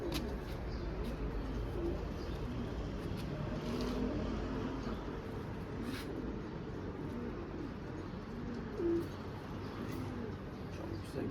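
Pigeons coo softly and repeatedly in an outdoor loft, low throaty calls over steady background noise, with faint sounds of other birds around.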